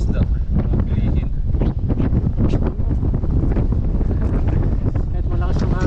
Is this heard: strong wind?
yes